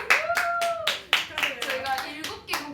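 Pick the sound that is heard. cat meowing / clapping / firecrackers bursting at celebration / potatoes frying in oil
clapping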